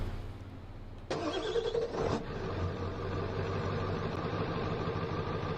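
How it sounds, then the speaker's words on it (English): A loud truck engine, used for farm harvest work hauling grass, starts abruptly and then runs steadily at a close, throbbing idle, with a rough burst as it catches. "this truck is loud."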